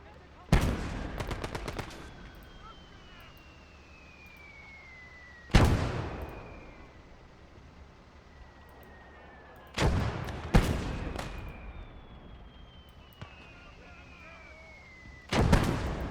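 Mortar and gunfire in a World War II beach-assault video game: four sharp, loud blasts spaced several seconds apart, each trailing off into rumbling echoes and whistling debris, with a steady low background roar between them.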